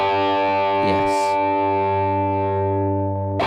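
Rock electric guitar run through an X-Gear X-Drive distortion effect, a thick sustained distorted chord ringing loudly, with a brief pick scrape midway and a fresh strum at the end.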